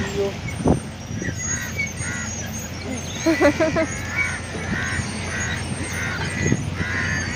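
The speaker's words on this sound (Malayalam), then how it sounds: "ആ ബാക്കി കാക്കകളൊക്കെ രക്ഷിക്കാൻ വന്നേക്കുന്നതാണ്" Crows caw in short harsh bursts around a beach at evening, a cluster of calls rising midway and scattered ones after, set against steady surf-like background noise and distant traffic rumble.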